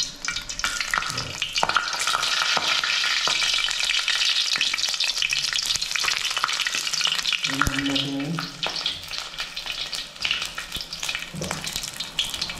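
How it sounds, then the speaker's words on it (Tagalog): Food frying in hot spattering oil, six pieces cooking at once, with a steady loud sizzle and crackle filling the pan throughout, briefly broken by a stirring clatter near the middle. "Prito tayo mga toto."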